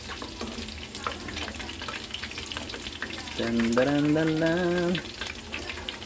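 Chicken frying in hot oil, a close, steady crackling sizzle with a brief burst of tonal noise in the middle and a word spoken over it.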